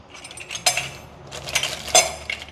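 A spoon is picked out at a coffee-tasting bench, bringing a few bright metallic clinks of cutlery in two quick bursts, close and clear over a quiet background.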